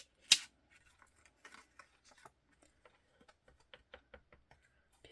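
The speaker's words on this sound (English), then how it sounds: "So I need to trim this acetate off." Scissors trim a thin acetate sheet, starting with one sharp, close snip and followed by a scattered series of quiet clicks and snips in a near-silent room.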